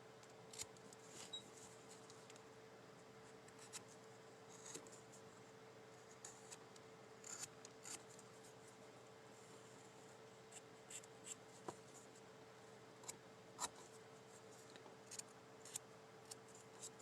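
Scissors cut out a paper craft piece for a chimney Santa: faint, sparse snips and small paper rustles, irregularly spaced over a quiet steady room hum, with no talking.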